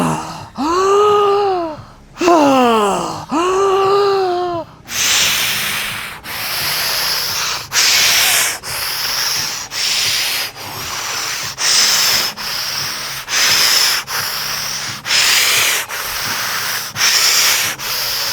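Deep, rhythmic breathing during a Wim Hof style breathing exercise at a cold plunge class: two long voiced sighing breaths, then a steady run of strong, loud inhales and exhales repeating about every second, close and alone.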